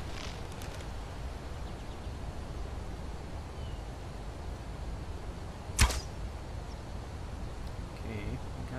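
A single arrow loosed from a bow in Skyrim snaps out as one sharp, brief whoosh midway through, set against a constant loud rushing river ambience.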